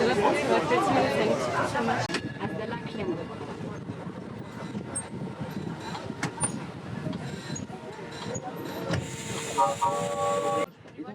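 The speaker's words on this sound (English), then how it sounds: "So I'm on a little tram that's going to go" A small battery-powered electric tram rolling around a lake in Switzerland, with a steady rumble and clatter of wheels on rails, faint whines and clicks, and people chatting aboard.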